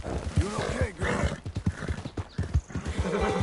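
A horse in Red Dead Redemption 2 clip-clops along with steady, close hoofbeats while letting out a rising whinny, and a rider speaks softly over the trotting.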